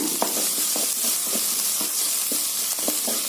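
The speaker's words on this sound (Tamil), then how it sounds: "கருவேப்பில்லைங்க ஒரு வரமிளகாயிங்க கிள்ளி போட்டுருங்க நல்லா வதக்கி விடுங்க" Carrot, slit green chili, curry leaves and a broken dried red chili sauté in hot oil in a pan, a steady sizzle broken by repeated scraping stir strokes, close and fairly loud with no voices.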